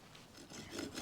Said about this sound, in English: we're going to use the penknife to actually cut up some wood